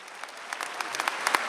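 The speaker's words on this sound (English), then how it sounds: "Give my 3 volunteers a round of applause real quick." A school convocation audience breaks into applause, a quick burst of many hands clapping with sharp individual claps standing out, rising briefly before it fades.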